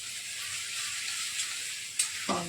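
Ginger-garlic paste sizzles in a pan with fried onions, a steady close hiss held alone throughout, with a couple of small clinks near the end.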